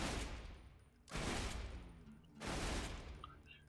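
Bandit shotgun in Borderlands 2 fired from the hip: three loud, booming gunshot bursts about a second and a half apart, each decaying into a short rumble.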